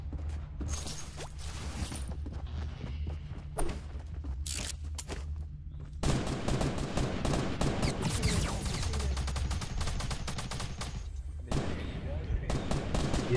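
Rapid gunfire crackles through a squad-based video game match, dense bursts and rattling volleys that grow louder and busier midway, mixed with game noise and faint players talking.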